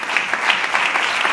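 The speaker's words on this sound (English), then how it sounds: "So please give a big applause to Teresa Rossignoli and her project Stop2Go" Audience applause at a talk or project presentation event, steady dense clapping from a crowd throughout, fairly loud with no voices over it.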